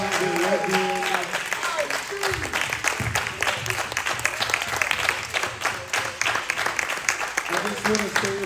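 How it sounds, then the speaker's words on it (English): An audience at a ballroom-scene town hall panel applauds steadily, dense clapping filling the clip while a voice speaks briefly at the start and end. "Can we give our panel a round of applause?"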